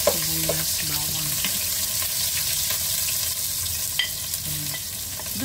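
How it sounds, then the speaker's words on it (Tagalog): Onion and garlic sauté with a steady sizzle in a hot pan, reusing frying oil, while a spatula scrapes and stirs close by; a voice murmurs faintly beneath the frying. "gigisan na muna natin sa sibuyas, bawang"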